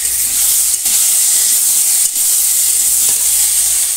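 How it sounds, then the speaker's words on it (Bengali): Spices stirred into potatoes frying in oil in a home kitchen, a loud, continuous close-up hiss of sizzling with faint scraping as the mixture is turned. "এই যে মশলাগুলো আলুর মধ্যে দিয়ে দেবো, দিয়ে একটু নাড়বো"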